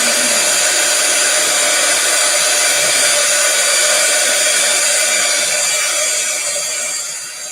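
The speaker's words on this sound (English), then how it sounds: "Let me see what happens if I dry that one with the dryer." A hair dryer blows steadily on a craft project, a loud continuous whir held for several seconds before it starts to fade at the end.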